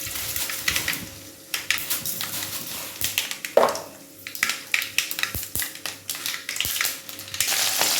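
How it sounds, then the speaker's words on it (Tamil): Mustard seeds for tempering pop and crackle in hot oil, sharp irregular snaps and clicks bursting close and loud over a low sizzle, with no talk. "இப்போ கடுகு போட்டு தாளிக்க போகிறோம்."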